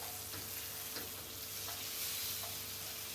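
Onions, garlic and pre-mixed vegetables frying in a pan for a Chinese dish, a dense continuous sizzle with a few soft stirring scrapes, close and alone without talk.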